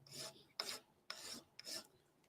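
A hand file rasps burrs off the edge of a machined part in a shed, four distinct close scraping strokes at an even rhythm with short pauses between.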